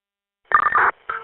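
A telephone rings in two short electronic bursts, one longer tone followed by a brief second chirp, clear and alone against silence.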